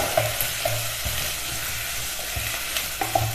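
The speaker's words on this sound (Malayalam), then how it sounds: "രണ്ട് വറ്റൽമുളക് ചെറുതായി കട്ട് ചെയ്ത് ചേർത്ത് കൊടുക്കാം ഇതെല്ലാം ചേർത്ത് നന്നായിട്ടൊന്ന് വഴറ്റിയെടുക്കാം" Onions with chopped dried red chilies sautéing in a pan for a Kerala-style fish dish, a steady soft sizzle broken by a few light stirring scrapes, close and fairly quiet with no voices.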